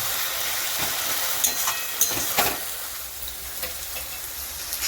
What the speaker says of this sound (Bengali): দুটোকে একসাথে খুব ভালো করে আমাদেরকে ভেজে নিতে হবে, যাতে পেঁয়াজও গোল্ডেন ব্রাউন হয়ে যায়